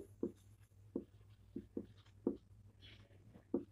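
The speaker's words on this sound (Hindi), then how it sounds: "तो मैं इसका डिफिनेशन लिख देती हूँ" Pen or chalk writing out a definition during a lesson, heard as soft, faint, separate scratchy strokes in an irregular rhythm against a quiet background.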